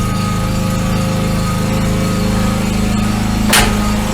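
A lawn mower engine runs close by in a steady, loud drone with a constant hum and no breaks, and one brief brighter burst near the end.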